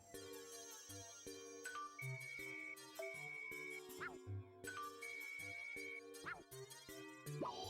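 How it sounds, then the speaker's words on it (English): Wish bell ringing in the PokéPark 2: Wonders Beyond video game, bright repeated chiming tones over game music, with a voice talking quietly underneath. "we're going to be ringing the wish bell"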